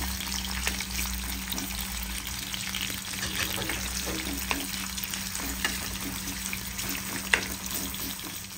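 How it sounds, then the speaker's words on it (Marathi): Onion frying in oil in a pan on a medium gas flame, after tondli (ivy gourd) has been removed; a steady low crackle and sizzle with faint clinks, no talking. "तोंडली काढून घेतली की त्याच तेलामध्ये आपण कांदा ऍड करणार आहोत"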